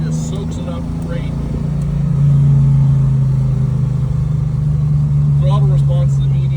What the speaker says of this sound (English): Throttle response is immediate. Good old 428, big time torque in third gear.